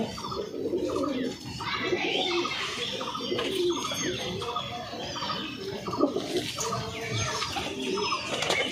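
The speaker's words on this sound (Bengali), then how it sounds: "এই 1 জোড়া অন্ধ্রা পেয়ার, অন্ধ্রা ফুলশিরা, লাইট চোখের না? লাইট চোখের পায়রা" A pair of light-eyed Andhra pigeons coo repeatedly inside a cage, a steady series of soft rhythmic calls close by, with occasional faint rustling.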